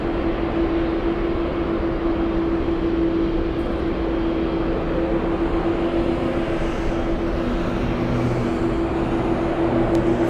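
A Lynden Air Cargo freighter aircraft at LAX sends out a steady, continuous roar with a droning engine hum that holds level throughout, loud and unbroken with no voices.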